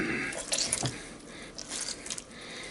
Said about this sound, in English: I'm just going to squidge all of this water into our dough